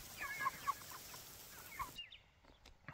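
Chickens cluck softly at a distance in a farmyard, giving a few scattered short calls over steady outdoor hiss before things go quieter.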